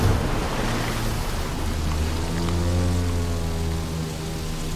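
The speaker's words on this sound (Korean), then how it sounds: "나는 비행기가 이렇게 물소리 나면서 가는 거 좋더라." A seaplane skims across water in the racing game The Crew 2, a continuous rushing, splashing wash of spray layered over a low droning engine hum, loud and close throughout.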